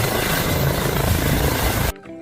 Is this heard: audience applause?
no